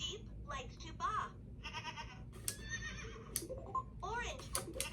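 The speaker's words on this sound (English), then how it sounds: "The sheep likes to baa." A 2016 VTech Spin and Learn Color Flashlight toy plays a recorded sheep baa, with a bleating electronic animal call repeating among toy-voice speech and chimes, loud and close.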